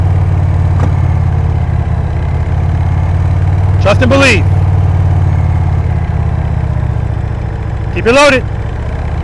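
A motorcycle engine held at low throttle during slow-speed riding practice gives a steady low rumble throughout, with a person talking over it in short bursts.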